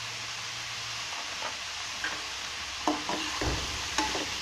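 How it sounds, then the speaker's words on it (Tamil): Mixed vegetables, capsicum, carrot and beans, sauté in a pan for mushroom fried rice, with a continuous even hiss and a few light clinks of a utensil scraping the pan in the later half. "வதக்கி விட்டுட்டு இது நல்லா ஒரு நிமிஷம் வதங்கட்டும்"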